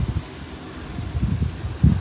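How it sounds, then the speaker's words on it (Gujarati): Outdoor wind gusting and rustling through leaves on a cool, breezy day, a soft continuous hiss with low rumbling buffets against the microphone, no voices. "બહુ જ મસ્ત પવન આવે છે"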